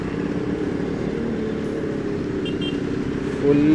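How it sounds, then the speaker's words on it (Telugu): Heavy truck traffic on a highway near Nagpur in Maharashtra, a steady loud roar of engines and road noise that swells slightly near the end, with a brief horn-like tone. "full truck traffic"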